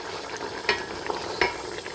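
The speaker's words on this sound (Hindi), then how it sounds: "अब बस हमें ये गोश्त के अच्छे से भुनने का इंतज़ार है कि अच्छी तरह ये गोश्त हमारा भुन जाए।" Mutton chops sizzle and fry steadily in a karahi, a dense close crackle with two brief louder stirring scrapes and no talking.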